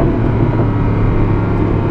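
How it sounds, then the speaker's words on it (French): Mercedes-AMG Black Series V8 engine revving hard, a loud, steady, dense roar held close for the whole stretch with no voices over it. "Et là, du coup, le V8 se réveille et il vient te défoncer la gueule."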